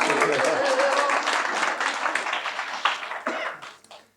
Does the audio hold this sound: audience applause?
yes